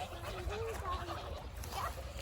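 Mast geese and big grey geese calling on a farm, a few short honking and gobbling notes at close range over a low steady background hum.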